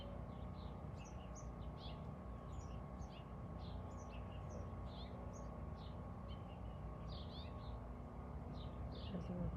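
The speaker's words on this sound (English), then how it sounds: "there is a bird in this tree" Birds chirping in a tree outdoors, short scattered high tweets repeating through the clip over a steady low rumble of background noise.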